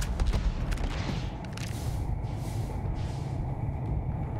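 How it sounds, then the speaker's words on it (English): Distant gunfire in the space RPG Starfield, with a cluster of rapid sharp shots at the start and scattered cracks later over a steady rumbling background. "hear someone shooting at us? I definitely heard someone. Someone's shooting."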